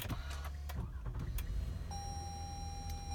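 Push-button start of a 2014 Toyota Avalon XLE Touring, beginning with a few soft clicks and thumps in the cabin before the engine catches into a quiet, steady idle hum with a faint electronic tone, and no talking.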